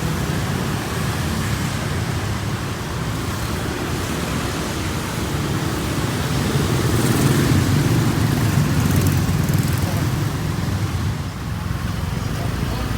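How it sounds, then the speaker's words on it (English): A busy road in Phuket Old Town roars with a continuous stream of passing cars and motorbikes, a dense, loud wash of traffic noise that swells slightly midway and never lets up. "navigate across this busy road where seems to be never-ending stream of traffic."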